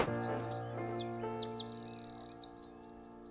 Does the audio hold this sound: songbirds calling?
yes